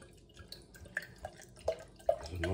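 Henry Westons Vintage Cider, a strong 8.2% vintage cider, is poured into a glass, close-up with irregular splashing and trickling that grows fuller and busier toward the end.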